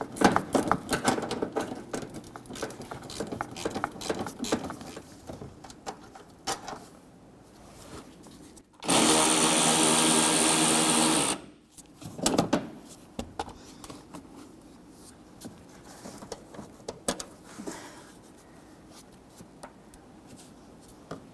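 A ratchet spins a 10mm socket on a bolt behind the inner fender liner of a Nissan Frontier pickup, a steady mechanical whir of about two and a half seconds amid scattered handling clatter and knocks.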